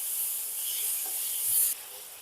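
Masala spices sizzling with onions and a splash of water in a pan, a steady close hiss with faint stirring scrapes, cutting off to a lower simmer near the end.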